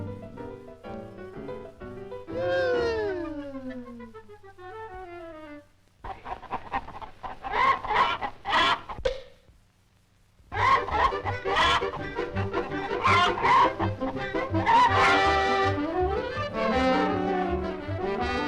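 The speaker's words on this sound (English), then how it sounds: "there's a new rooster in the barnyard" A cartoon barnyard with a rooster and hens: a rising crow-like call, then busy clucking and squawking bursts, a short pause, and a loud continuous stretch of cackling fowl mixed with music-like tones.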